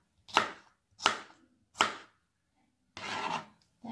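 Okra being chopped with a knife, four separate close cutting strokes at a steady pace with quiet gaps between them.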